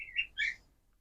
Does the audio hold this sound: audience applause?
no